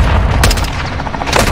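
Air strike hitting a building in Modern Warfare II, a loud continuous rumble of heavy impacts and blasts with rapid repeated bangs, close and dense.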